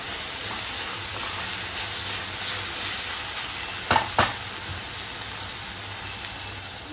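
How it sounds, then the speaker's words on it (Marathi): Chopped onion with salt fries in a pan while being made into upma, a steady soft sizzle running throughout, with two brief sharp scrapes of a spoon against the pan near the middle. "मीठ टाकल्यामुळे कांदा तुमचा लवकर जरा भाजला जातो"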